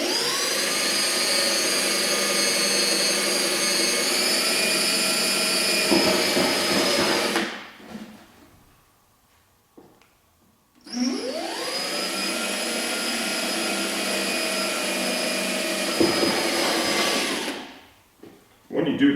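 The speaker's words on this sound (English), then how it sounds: "I'm using a step drill bit, unibit. I find these work the absolute best for fiberglass bodywork" Step drill bit (unibit) boring through fiberglass race bodywork for a Honda CBR1000RR: two long, steady, high-pitched whining drill runs of about seven seconds each, separated by a quiet pause, loud and close.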